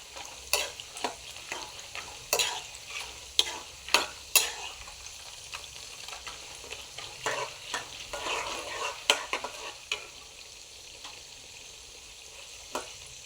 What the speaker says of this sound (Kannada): ಕಡಲೆಬೇಳೆ, ಉದ್ದಿನಬೇಳೆ ಮತ್ತು ಶೇಂಗಾನ ಹಾಕಿ ಫ್ರೈ ಮಾಡ್ತಾಯಿದ್ದೀನಿ ಫ್ರೆಂಡ್ಸ್